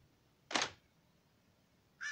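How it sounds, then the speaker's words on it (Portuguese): Crows cawing in the Monster Love Party video game, two separate harsh caws about a second and a half apart, clear and moderately loud against quiet background. "Ah, os corvos."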